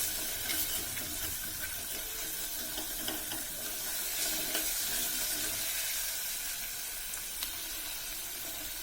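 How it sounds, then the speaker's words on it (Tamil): Coriander and mint stems sauté in hot oil for tomato rice, giving a steady, even sizzle with faint crackles and occasional stirring. No voices are heard. "1 செகண்டில் இந்த கொத்தமல்லி தலையும் புதினா தலையும் நல்லா வதங்கிடும்."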